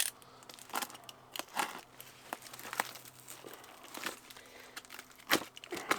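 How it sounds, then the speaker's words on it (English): A sellotaped cardboard box being cut into pieces by hand, giving irregular crinkling, tearing and scraping bursts at close range, with a steady low hum underneath and no speech. "So I'm just going to have to cut this quote-unquote box up"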